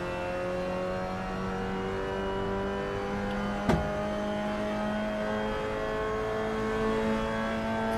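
A Mazda MX-5 Miata engine in a VR racing game at Silverstone drones steadily at constant revs, with one brief click partway through, and no voices.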